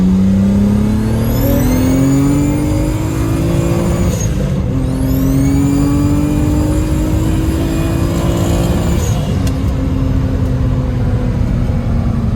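A car fitted with a GT3076 turbo accelerates hard on a test run, its engine note climbing loud and close through two gear pulls, each ending in a sharp shift and a brief release before winding up again.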